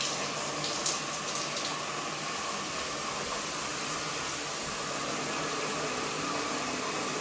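Water pours steadily from a new shower, a constant, even hiss of running water with no breaks and no voices.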